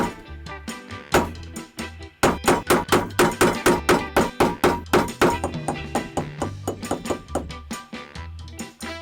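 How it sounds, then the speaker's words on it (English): A heavy 3-pound hammer strikes metal stamps in a rapid series of sharp, ringing blows, close and loud, with brief pauses between runs of hits. "I'm just using 2 different stamps as well as my 3-pound hammer"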